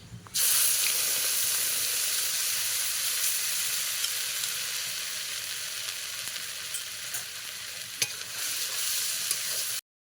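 Ginger-garlic paste and whole spices (cardamom, cloves, cinnamon) frying in hot oil for egg korma, a loud continuous hissing sizzle close by with occasional faint clicks, holding steady for several seconds.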